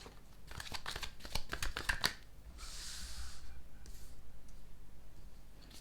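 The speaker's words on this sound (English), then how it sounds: "let's start shuffling 3 cards for my water signs" Tarot cards riffle and flick in a quick burst of crisp clicks, then a softer, steady rustle of shuffling, quiet and close.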